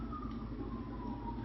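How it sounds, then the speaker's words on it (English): An emergency vehicle siren wails at a distance, its single tone sliding slowly downward over a steady low background rumble. "Hear that siren?"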